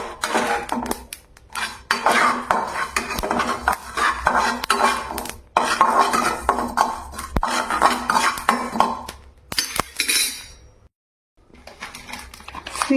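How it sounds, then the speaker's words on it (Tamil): Fennel seeds roasting in a pan, heard as a dense run of close, loud metallic scraping and clattering from stirring, briefly interrupted by short pauses and a quiet gap near the end. "சோம்பை வறுத்து எடுத்துக்கலாம்"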